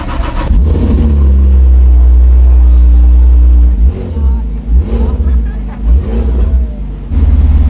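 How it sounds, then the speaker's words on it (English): A Fenyr supercar with a tuned Porsche-based engine accelerates hard, a loud close roaring rev building and holding, then dropping off with gear changes and a fresh surge at the end, with people talking over it. "It's based on a roof-tuned Porsche engine,"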